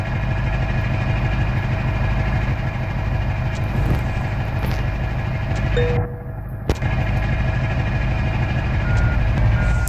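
A truck loaded with a 22-tonne combine harvester backs up slowly, its loud reversing alarm beeping in an even, repeating rhythm over the steady rumble of the idling engine.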